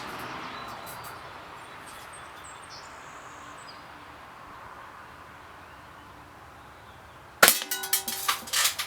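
A single sharp BB rifle shot, from a Daisy Red Ryder or Crosman Marlin Cowboy lever-action BB gun, cracks near the end after quiet outdoor ambience with faint birds and insects, followed by a brief metallic ringing clatter.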